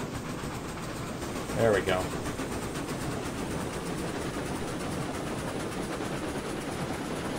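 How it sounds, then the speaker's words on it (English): A heavy train in the Railroads Online game rumbles steadily at a low, even level, with a brief voice near the start. "Apparently this is a very heavy train."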